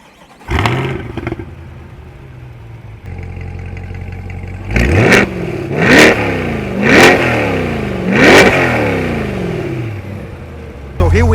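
A Chevrolet C8 Corvette's 6.2-litre LT2 V8 revs up in several loud, rising-and-falling sweeps after a steady idle, each burst swelling and dropping back, close and powerful.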